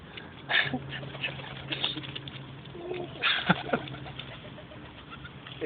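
Pigeons being fed give soft, low coos close by, with occasional rustles and wing flutters, while people talk quietly nearby.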